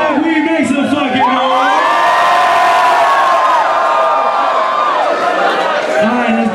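A concert crowd at a show at Fort Hunt cheers and yells loudly and without a break, with shrill whoops rising over the dense roar of many voices.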